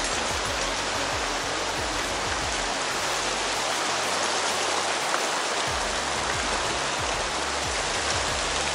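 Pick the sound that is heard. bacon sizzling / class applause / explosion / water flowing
water flowing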